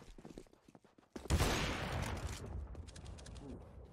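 Counter-Strike: Global Offensive gunfire in a professional esports match: a rapid burst of shots erupts after quieter game sounds, then continues as a loud clattering fusillade that gradually thins out.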